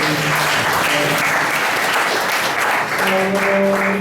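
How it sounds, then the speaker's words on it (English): Audience applause closing a technical session of a transport planning conference, dense and steady for the whole stretch, loud and close, with faint tonal hum under it. "so let's give a round of applause"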